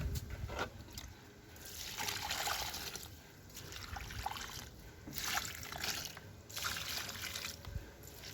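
Soft, steady trickle of water poured onto garden soil at the base of a plant outdoors, faint and continuous with slight surges, under quiet background ambience.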